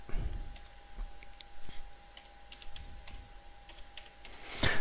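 Keys tapped on a computer keyboard while a domain name is entered during Windows Server 2008 Active Directory setup, an irregular run of soft clicks under a steady hum, ending in a louder clack.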